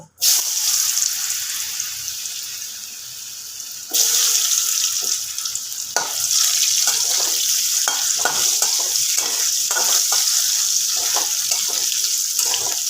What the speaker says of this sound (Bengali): আলুগুলোকে আমি একটু লাল করে ভেজে নেব